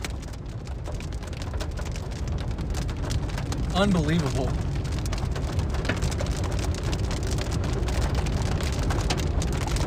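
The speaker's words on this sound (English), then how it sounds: "It's pea-sized hail" Pea-sized hail falling during a Texas supercell near Umbarger, a dense steady patter of pellets striking surfaces with a rumble underneath, while a voice speaks briefly over it.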